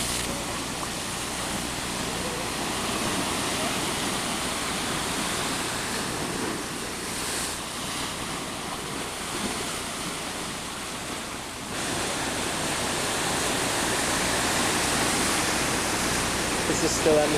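Ocean waves surge into a natural sea pool at Mosteiros, a continuous broad roar of churning surf, loud and close, steady throughout with slight swells.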